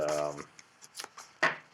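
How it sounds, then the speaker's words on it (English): APBA football game cards are shuffled by hand on a tabletop, a scatter of soft papery flicks and taps after a brief bit of talk. "So what I will do is shuffle these cards"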